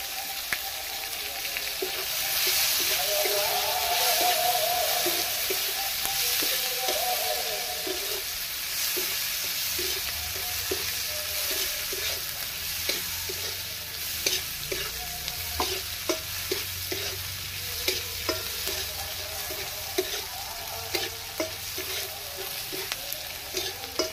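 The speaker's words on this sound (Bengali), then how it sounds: "পেঁয়াজ কুচিয়ে রেখেছিলাম, পেঁয়াজটা দিয়ে দিলাম।" Steady sizzling of onions frying in a hot pan, with intermittent stirring scrapes and clicks throughout, close and continuous.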